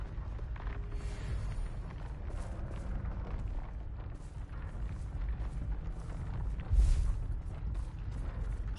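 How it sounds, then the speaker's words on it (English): Bombarda spell explosion in the Hogwarts Legacy video game, a deep rumbling blast over continuous battle noise, with a heavy booming hit about two-thirds of the way through. "Bombarda!"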